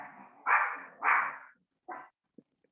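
A pet dog barks indoors: two loud, close barks in quick succession, then a softer bark and a brief faint yip, with no other sound around them.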